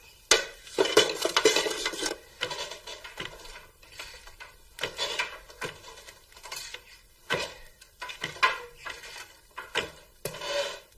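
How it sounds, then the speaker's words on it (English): A metal spoon scraping and knocking inside a cooking pot while stirring salted food, irregular clinks and scrapes in bursts separated by short pauses, close by. "Stir it up."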